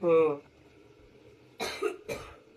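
A short burst of voiced speech gives way to two sharp, close coughs about half a second apart, heard indoors in a home kitchen where mushroom pulao is cooking in ghee.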